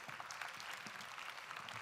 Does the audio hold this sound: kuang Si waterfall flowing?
no